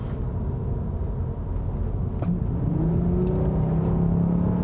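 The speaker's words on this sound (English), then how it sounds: "This one has a cold air intake installed and that V6 just loves to sing." An Acura TLX V6 with a cold air intake and a 5-speed automatic accelerates hard. A low, steady engine drone climbs into a louder, rising intake howl about halfway through, heard close with no talking.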